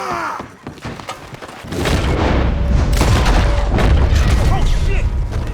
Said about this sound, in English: They are shooting at me, game.